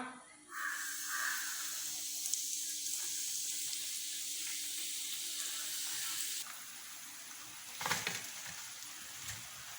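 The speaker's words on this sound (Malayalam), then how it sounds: "ഇനി ഇത് എണ്ണയിൽ ഇട്ട് പൊരിക്കാം" A steady, loud hiss of popcorn chicken frying in hot oil runs throughout, easing slightly partway and flaring briefly near the end.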